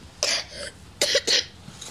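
A child with breathing attacks coughs three times, in short harsh bursts, the last two close together, in a quiet room.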